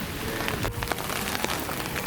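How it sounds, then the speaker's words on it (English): Heavy rain falls steadily on a hard surface in Japan, a dense patter of drops with occasional sharper splashes close by. "It's raining like crazy"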